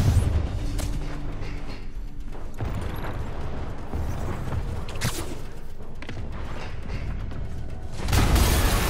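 Explosions in the video game Marvel's Spider-Man: a low, continuous rumble with mechanical clanks, a sharp blast around the middle and a louder booming burst at the end, with no talking.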